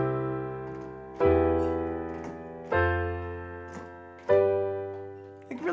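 A sustained chord rings out three times on a keyboard instrument, moving from the 1 chord to the 3 chord. Each strike decays slowly, and no one speaks.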